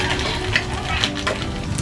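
Mustard oil poured into a hot pan still foamy from frying prawns, crackling in a steady broadband sizzle with a few sharper pops, close and fairly loud.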